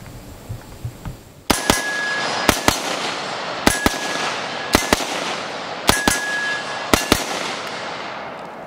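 An AK47 (AKM) rifle fitted with a muzzle device fires paired double-tap shots on a short outdoor range, five loud, sharp pairs evenly spaced with ringing, echoing tails between them and no talking.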